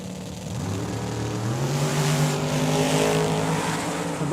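A boosted Mustang and a Camaro launch side by side in a drag race at Tucson Dragway, loud engines revving and accelerating hard with a hint of tire squeal, close and continuous.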